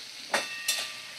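Papaya with poppy seed paste frying in a pan: a faint, soft sizzle broken by two quick scraping swishes of a spatula, close and quiet.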